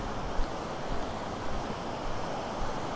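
Pinlac Falls waterfall in Infanta, Quezon, a continuous broadband rush of falling water, steady and fairly close, with no voices over it.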